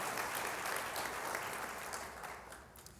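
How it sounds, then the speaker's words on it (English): Conference attendees at an innovations session give a hearty round of applause, a thick continuous patter of many hands that eases slightly toward the end. "give a big round of applause to Boston"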